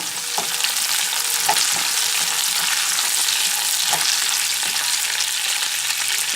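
Curry leaves sizzle and crackle steadily in hot oil for a Kerala-style lemon pickle, a dense continuous frying hiss with a few sharper pops, close and fairly loud throughout with no talking.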